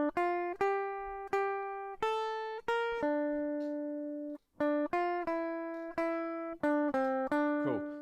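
The full third section of a film theme on guitar: roughly sixteen close, bright picked notes in a flowing melody, with one longer sustained note midway. No voices, just the instrument alone.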